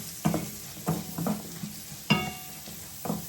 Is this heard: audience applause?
no